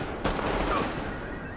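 A single sharp gunshot or brief burst in The Division, a third-person shooter video game, cracks out early, then trails into a rumbling echo over a steady background of combat noise.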